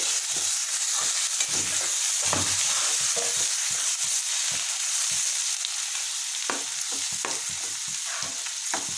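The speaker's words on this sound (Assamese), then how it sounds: "পালেং শাকৰ আৰু বিলাহীৰ পেষ্টখিনি মই ইয়াত দি দিছোঁ" Spinach and tomato paste frying in a pan while it is stirred: a steady sizzle runs throughout with repeated short scraping knocks from the stirring utensil, close and fairly loud, no talk.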